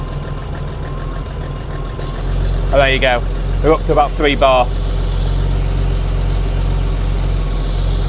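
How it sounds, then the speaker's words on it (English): A BMW E30 325i with the M20B25 six-cylinder idles roughly with a vacuum line disconnected, a steady low engine rumble running throughout while someone speaks briefly close by. "you'll hear the engine sound pretty rough"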